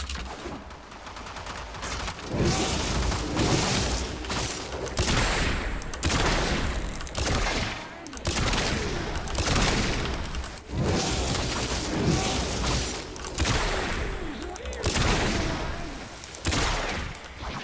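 Sustained rapid gunfire aimed at heavy gunner enemies in the game Warframe, dense overlapping bursts of shots and impacts continuing loudly almost without pause.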